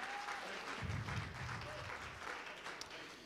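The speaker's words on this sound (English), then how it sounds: "Clap your hands one more time." A church congregation claps their hands in praise, a soft, even wash of applause from a room full of people, distant and steady with faint voices.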